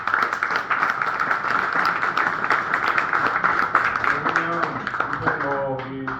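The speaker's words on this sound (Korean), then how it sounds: "그 독서 참여 선생님들한테 뜨거운 박수" An audience at the Yeongsanpo skate festival talk show applauds with a dense, steady patter of clapping. Someone speaks over it throughout and is heard more clearly at the end.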